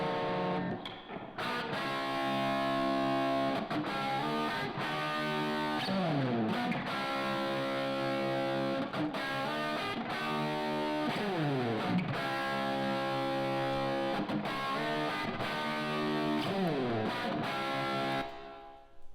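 Distorted electric guitar played through a heavy reverb effect, sustained chords and sliding notes ringing out continuously and loudly with long washy tails, no talking over it.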